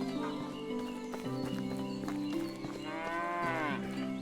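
Cattle mooing in the Medieval Dynasty video game, several long lowing calls over a steady farmyard ambience with faint hoof clip-clops, one moo rising clearly near the end.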